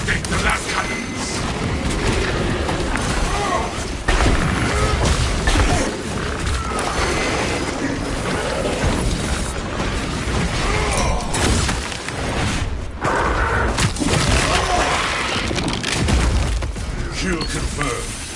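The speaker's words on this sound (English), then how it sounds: "Activate the last cannons!" Heavy cannon fire in the Space Marine 2 siege mode video game, with loud, continuous, booming blasts and crashing impacts that fill the whole stretch and run under game voice lines.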